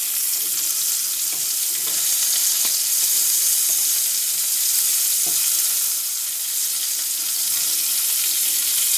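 Flipped chicken pieces fry in a pan with a steady, dense sizzle that fills the clip, broken by a few faint clicks and taps of utensils, with no talking.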